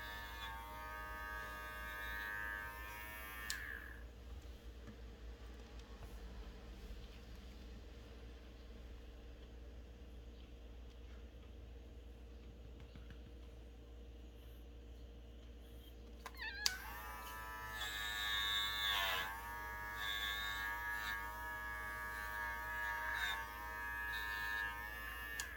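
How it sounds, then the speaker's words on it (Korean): Electric clippers shave the fur of a 12-year-old tortoiseshell cat with chronic kidney failure, a steady close buzz that cuts out for a long stretch and then starts again. "오늘 우리 동이한테는 털을 밀어서 피하수액을 한번 해보겠습니다."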